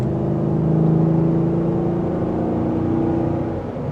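A 2023 Ford F-250 Tremor with the 7.3-liter Godzilla engine accelerates while merging into traffic, a steady loud engine drone rising slightly, heard from inside the truck without talk.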